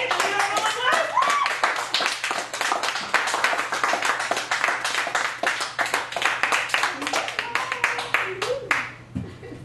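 Audience at a poetry open mic at the Cafe Gallery in Chicago applauding, a dense burst of close clapping that runs for several seconds before thinning out, with a few voices calling out over it.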